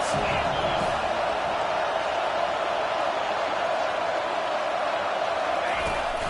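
Crowd noise swells steadily through a football video game stadium in NCAA '25 during a big third down, a dense continuous roar with commentary running over it.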